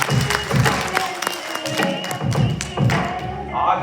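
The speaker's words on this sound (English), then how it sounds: "Please, applause, ताली बजाओ." An audience at a live EdTalk event claps in response to a speaker, a dense rhythmic patter of hands with low thuds, steady and moderately loud throughout with murmuring voices mixed in.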